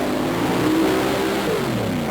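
A Chevy 550 cubic inch mud racing truck engine roars loud and close at a mud racing nationals in Panama City, Florida, holding a steady, heavy drone with a slight rise in pitch through the middle.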